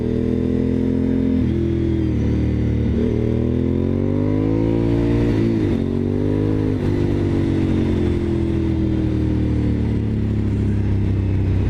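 A Honda VTR1000SP1's V-twin engine idles with a deep, lumpy rumble, then revs up and drops back several times, loud and close.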